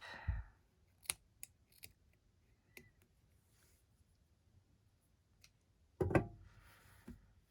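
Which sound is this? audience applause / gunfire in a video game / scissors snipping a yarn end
scissors snipping a yarn end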